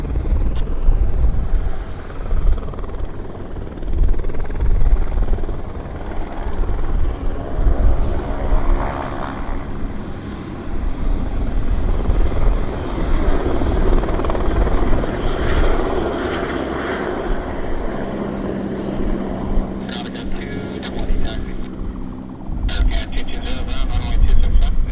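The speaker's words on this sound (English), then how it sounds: "Korean Airlines should be taxiing." A Korean Air airliner taxiing at Vancouver Airport: a continuous jet engine roar heard outdoors from a distance, with people talking over it.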